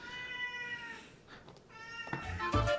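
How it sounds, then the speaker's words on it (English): Cat meowing in a home during a live house show, a drawn-out meow followed by a couple of shorter, louder meows near the end, heard close with no talking. "Kitty Cat says bye,"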